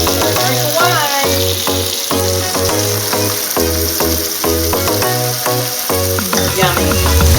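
Stuffed spinach and cheese chicken rolls fry in oil in a pan, a steady sizzle running throughout beneath loud rhythmic music.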